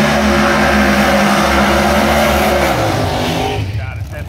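A Florida-built 20-model Chevrolet Camaro pro mod drag race car with a 530-cubic-inch engine roars loudly at a drag strip, its engine note holding strong before dropping away at the end.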